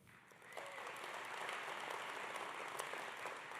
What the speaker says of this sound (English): you can applaud again if you want